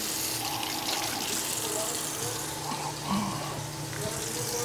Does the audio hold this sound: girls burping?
no